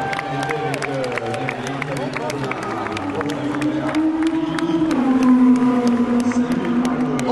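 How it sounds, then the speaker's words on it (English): An Audi Le Mans prototype race car from the Colin Collins team passes close by on a circuit, its engine tone rising into a loud sustained drone over a murmuring crowd and a rising siren-like whine. "There goes one of the Colin Collis Audis."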